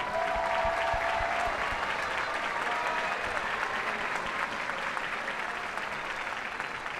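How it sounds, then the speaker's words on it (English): A large audience at a district school strings festival applauds local string educators with dense, steady clapping that holds evenly throughout, slightly fading near the end. "Big round of applause."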